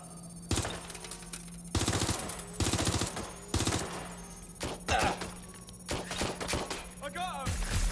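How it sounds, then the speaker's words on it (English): Bursts of rapid automatic gunfire and single shots ring out in a Watch Dogs: Legion shootout, loud and repeated in clusters, with a voice talking between volleys. "I'm taking fire."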